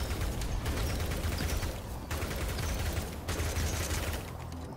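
Automated turrets in the sci-fi base-building game Outpost Infinity Siege fire dense, continuous bursts of gunfire, a loud sustained fusillade with brief dips in intensity over several seconds.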